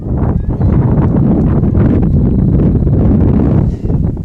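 Strong wind gusts batter the microphone at an outdoor college softball game, a loud continuous rumbling roar with no clear pauses.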